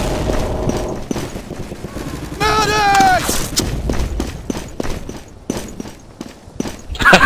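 Machine gun fire in Day of Defeat Source, rapid repeated shots in steady bursts mixed with game noise and a voice speaking.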